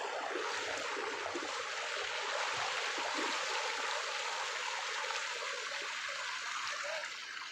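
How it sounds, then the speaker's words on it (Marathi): Strong, steady rush of fast-flowing stream water during village fishing, a loud continuous broadband wash with no gaps and no talk. "पानी का बहाव बहुत ज्यादा है"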